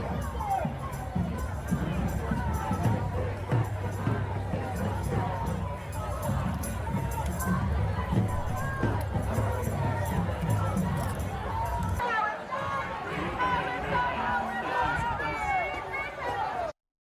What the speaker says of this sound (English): I wasn't sure what the crowd was going to look like for this protest.